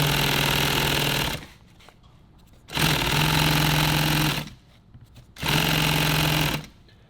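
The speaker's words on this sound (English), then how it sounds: "Now you can line this up right where you want it, and then just start sewing." Sewing machine stitching a nylon tactical pouch, three loud steady bursts of rapid mechanical whirring separated by short pauses, close and without talk.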